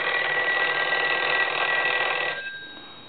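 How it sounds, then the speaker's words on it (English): A Western Electric 302 rotary telephone's bell rings loudly and continuously at close range for over two seconds, then cuts off and decays into quiet. "I'm going to go ahead and ring the phone."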